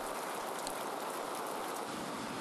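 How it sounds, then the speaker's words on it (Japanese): A heavy downpour falls on a city in Shizuoka, Japan, as moist air from a weakened typhoon brings torrential rain. It makes a dense, steady roaring hiss with no breaks and no voices. "県内は湿った空気が流れ込み雨雲が湧きやすい状況に 各地で大雨となりました"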